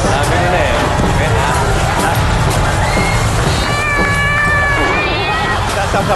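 Cat meowing in short, rising and falling cries that come up over a loud, busy background of crowd chatter and room noise, with people talking throughout.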